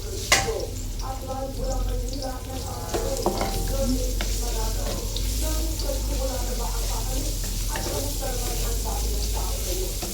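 Garlic for chicken adobo frying in a pan, a steady close sizzle and hiss throughout with occasional stirring clinks and scrapes.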